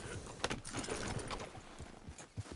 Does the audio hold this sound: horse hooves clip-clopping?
yes